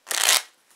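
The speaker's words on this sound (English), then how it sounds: "when I'm shuffling with a riffle shuffle, keep that ace right here" A deck of playing cards riffle shuffled once, giving a single close, crisp burst of fluttering card edges that lasts under half a second and then fades.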